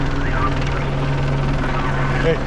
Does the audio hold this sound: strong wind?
no